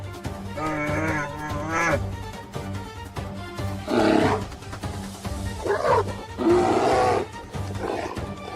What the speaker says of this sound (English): the bear paused, breathing heavily, letting out a shorter, exhausted growl